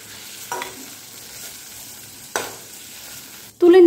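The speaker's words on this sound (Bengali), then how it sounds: "এদিকে দেখুন পটলগুলো কিন্তু খুব ভালো করে ভাজা হয়ে গেছে" Pointed gourds (potol) fry in oil, a soft steady sizzle with two brief scraping stirs, ending in a sudden louder clatter of utensils.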